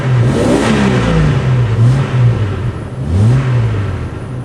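A Jeep Cherokee engine idles close by with a steady, smooth mechanical hum and a faint clatter, swelling gently in a few soft waves over several seconds, with no talking.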